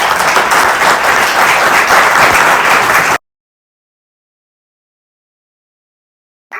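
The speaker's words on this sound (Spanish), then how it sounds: "un aplauso a Antonio" An audience at a talk on artificial intelligence breaks into loud, dense applause that cuts off abruptly after about three seconds, followed by silence and a brief return of sound at the very end.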